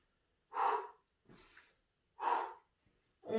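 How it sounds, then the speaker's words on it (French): During a gentle exercise routine, a person breathes out and in audibly in slow alternating breaths. The breaths are close and breathy with quiet pauses between them, and there is no speech. "je souffle et j'inspire"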